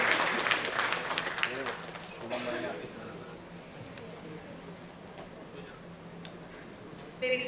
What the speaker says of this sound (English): A round of applause and thank you.